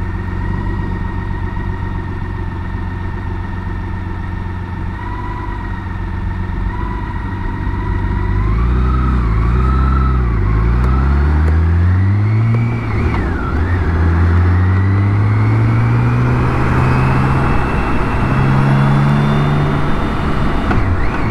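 A BMW K1600 GTL motorcycle engine drones steadily while riding on the road, its pitch rising and falling through acceleration and gear changes, loud and close with constant wind noise.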